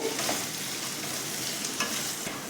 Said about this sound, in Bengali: আলুটা কিন্তু খুব ভালো করেই ভাজতে হবে